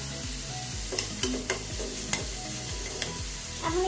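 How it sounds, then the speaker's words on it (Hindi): Onions frying in a pan for momo stuffing, a steady broadband sizzle with a few sharp clinks of a spatula stirring against the metal, close and alone with no voices. "तो सारा अनियन हमें डाल देना है।"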